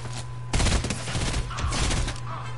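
Gunfire erupts in the Fortnite video game: a loud, dense burst of rapid shots starts about half a second in and continues in clustered volleys over a steady background hum.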